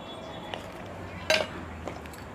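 Small metal toy dishes, a tiny wok and bowls, clink and clatter faintly as they are handled and put away, with one brief louder clank in the middle and a couple of softer taps.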